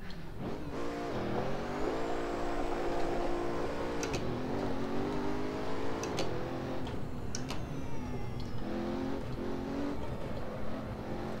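A Pagani Huayra in the Assetto Corsa sim racing game, its engine revving and droning with shifting pitch, transmission whine under braking, and sharp ticking clicks from gear changes, steady and loud with no talk.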